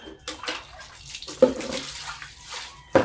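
Water sloshes and splashes in a basin during rinsing, with two sharp splash bursts and softer trickling and dripping between them.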